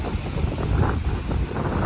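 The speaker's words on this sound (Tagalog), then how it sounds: "mabati kini mga kakuskot sa hangin" Strong wind buffets the microphone in a steady low roar with gusty swells, no voices heard.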